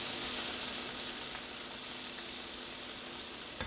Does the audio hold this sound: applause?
no